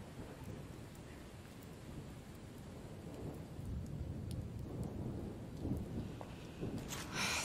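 Steady rain with rumbling thunder in a virtual theatrical stage performance, a continuous hissing downpour with low rolling swells that build toward the end.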